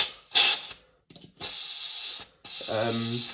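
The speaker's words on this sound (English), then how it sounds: "Just got a GM dry fire" Metallic clacks and ratcheting come from an airsoft gas blowback rifle, a Toxicant MCX SPEAR LT, as its bolt is cycled during dry fire. Several sharp mechanical bursts sound close up, with a short gap between them.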